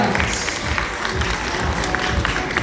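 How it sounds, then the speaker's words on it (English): Audience applause fills a Christmas tree lighting ceremony at Ascott Makati: dense, continuous clapping from a crowd, steady and moderately loud for a few seconds. "let's please give a big warm round of applause to Ascott Makati"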